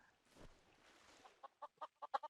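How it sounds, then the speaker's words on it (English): Minecraft chickens cluck in a quick series of short, rising clucks that grow louder toward the end, following a fainter muffled rustle at the start. "Chickens."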